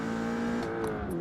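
Volkswagen Golf R engine in the racing video game Forza Motorsport, a steady, close, humming drone with a slight pitch dip toward the end, alone without talk.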